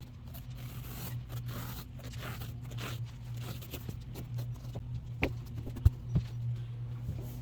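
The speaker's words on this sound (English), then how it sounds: "I'm gonna cut one straight edge right here, and then I'll make my side marks." A blade slices a straight edge through kart seat foam, a soft continuous scraping rasp close by over a low steady hum, with a few sharp knocks near the end.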